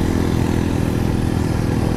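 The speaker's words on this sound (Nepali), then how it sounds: "यहाँबाट चाहिँ हाम्रो जयदीश्वरले चलाउँदै हुनुहुन्छ बाइक" A motorcycle ridden along a rural road in Ramechhap, Nepal, damaged in places by landslides, gives a steady, loud, close engine drone with rough mechanical clatter for the whole stretch and no voices.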